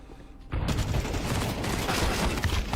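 Rapid bursts of rifle fire crackle densely in a Counter-Strike 2 semifinal match on the Nuke map, starting after a quiet half-second and continuing loud and continuous.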